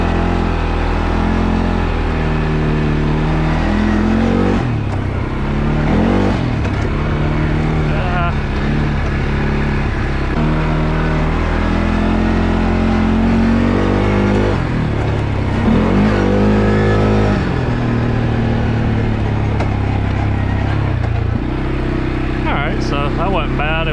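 A 2022 CFORCE 500 ATV runs along a dirt road toward a small jump, its engine loud and close, revving up and down in repeated surges and dips through the run.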